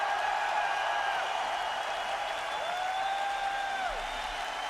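A concert audience in New York applauds after a performance, a steady wash of distant clapping and crowd noise held under sustained, gliding musical tones.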